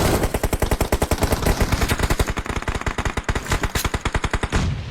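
Rapid automatic gunfire from the BGMI battle royale video game rattles in a long, loud, evenly spaced burst of dozens of shots, close and continuous until it cuts off.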